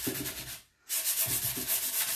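Hand sanding on a painted wood box, close and steady: rhythmic rubbing strokes, a short pause, then more back-and-forth scraping.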